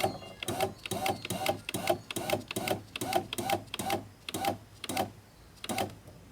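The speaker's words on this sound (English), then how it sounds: "So I'm going to roll up the window just a little bit, and you'll see here this window regulator will start coming up." Power window regulator motor raises the glass in a 2001 Volvo S60 door with the panel off, giving a close, rhythmic mechanical clicking that repeats steadily throughout.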